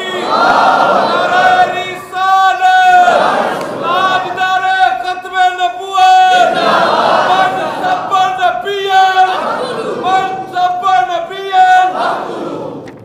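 A large crowd roars a loud, full-throated chant in unison in reply to the Takbeer slogan at a religious gathering about love of the Prophet. Repeated surging shouts run for the whole stretch.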